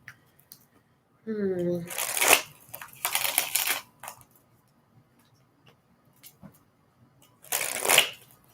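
A deck of cards is riffled in several quick bursts, a brief pause between each, with a short voice-like sound before the first.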